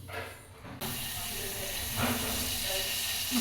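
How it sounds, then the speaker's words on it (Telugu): Tempering of cumin, mustard seeds, garlic and curry leaves hits hot oil for rasam, bursting into a sudden loud sizzling hiss after a quiet moment and sustaining it close by. "ఇక్కడైతే చారులోకి పోపు వేస్తున్నా."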